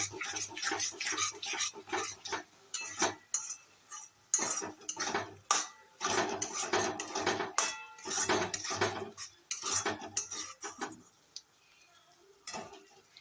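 A spoon scrapes and clinks against a pan while ginger garlic paste is stirred for a curd chicken curry, producing close, repeated metallic knocks and scrapes in uneven bursts with short pauses, no talking.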